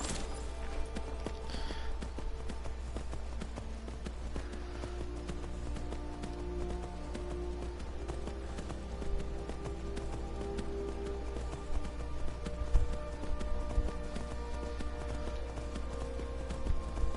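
Horse hooves clip-clop in a steady, even rhythm in a video game over a low droning background with soft musical tones.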